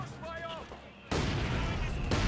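Vickers machine gun fire in a Company of Heroes 2 battle, a sustained loud burst of gunfire that starts abruptly halfway through, with talk and battlefield noise before it.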